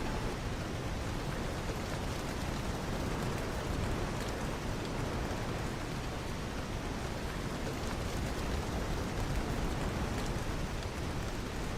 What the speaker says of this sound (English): This rain effect is incredible.